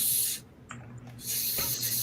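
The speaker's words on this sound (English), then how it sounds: "Just spray it a little bit lower, man. Get a mist going." Paint misting from a spray onto a model kit: two loud hissing bursts with a short pause between them, close up and with no talking.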